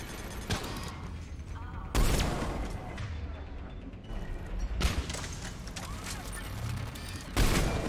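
Automatic turret fire in Mass Effect 3, sharp bursts of gunfire at about 2, 5 and 7.5 seconds over a busy, mechanical combat din, with no talk.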